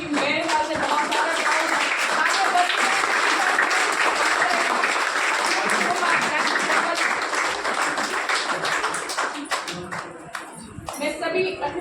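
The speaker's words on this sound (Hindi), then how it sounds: "तालियों की गुंजाहट कम ना रहे," Audience applause fills a volunteers' meeting in Delhi, a dense, steady wash of clapping that runs loud for most of its length and thins slightly toward the end, with voices mixed in.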